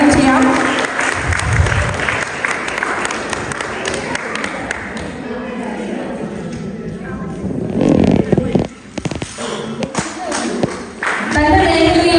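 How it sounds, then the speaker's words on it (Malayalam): An audience at an Onam celebration applauds to welcome the chief guest. The clapping is loud and sustained, mixed with crowd noise and an announcer's voice, and it swells again toward the end. "എല്ലാവരും ഒന്ന് കൈയടിച്ചേ"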